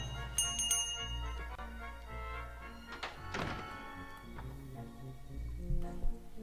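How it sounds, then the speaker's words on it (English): A bell rung in the adventure video game The Book of Unwritten Tales 2, with repeated metallic clangs and thuds over a steady background of game music, and no one speaking. "The nice thing about the bell, Bill can't ignore me"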